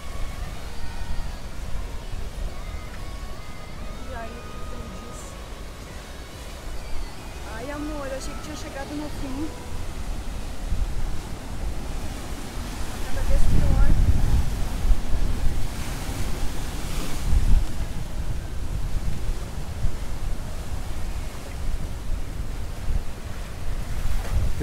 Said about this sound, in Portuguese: O mar está querendo ficar agitado.